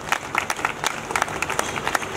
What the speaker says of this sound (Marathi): जरा एकदा जोरात टाळ्या सरसाठी मॅडमसाठी.